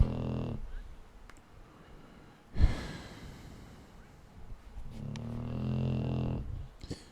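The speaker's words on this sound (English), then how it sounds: "a dog that is snoring like a freight train" A dog lying on a couch beneath a person's propped-up legs snores loudly and close by, with rough, rumbling breaths spaced a few seconds apart and a sharp snort in the middle.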